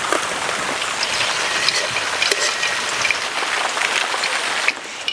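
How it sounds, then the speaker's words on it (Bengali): Pieces of chhana (fresh cottage cheese) fry briefly in hot oil in a home kitchen, giving a steady, dense, close-up sizzle that holds evenly throughout. "ছানার টুকরোগুলো তো খুব বেশি ভাজবো না"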